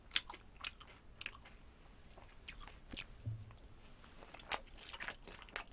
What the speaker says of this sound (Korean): 이 깐풍기도 양념소스에다 이렇게 찍어 먹을게요.